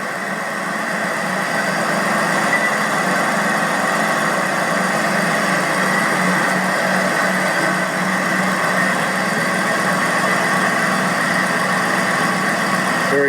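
A 2004 Ford Mustang Terminator Cobra idles steadily and close by, a smooth, even engine drone with no ticking, holding constant throughout.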